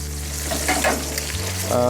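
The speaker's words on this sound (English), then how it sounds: "we're starting to get some browning here on this chicken, and that's what we want" Chicken pieces browning in a hot pan for chicken piccata give a steady, close, loud sizzle and crackle of frying, with brief stirring movements and no voices.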